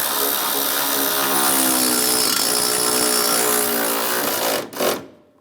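A power tool drives a screw on the windshield washer reservoir of a 2005–2010 Dodge Dakota, whirring loud and steady for about four and a half seconds before winding down with a short final burst.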